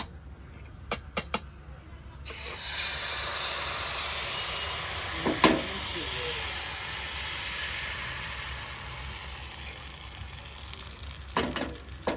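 Oil sizzles on a hot tawa while rice-flour dosa is being made, a broad steady hiss that begins after a quiet couple of seconds, with a few brief clicks and taps near the start, middle and end.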